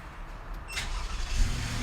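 A car with an adaptive driving setup starting up, a brief cranking burst followed by the engine catching into a low, uneven idle rumble, heard close with no talking.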